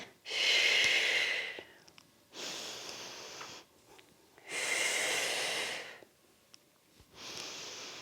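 Slow, deep breaths in and out during a Pilates arms workout, four long airy breaths close up, each lasting one to two seconds and separated by quiet pauses.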